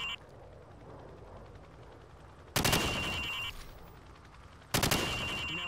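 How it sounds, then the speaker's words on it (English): Two bursts of automatic weapon fire at targets during a Call of Duty 4: Modern Warfare firing range session on Xbox 360, each a loud rattling volley of a few seconds, separated by quiet ambience. "Shoot at the targets while firing from the hip."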